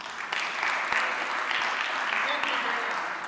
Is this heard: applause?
yes